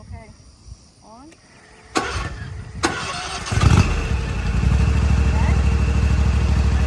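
Zero-turn lawn mower engine started with the key, a few clicks and cranks, then the engine catching and settling into a steady loud idle; people talk briefly before it starts.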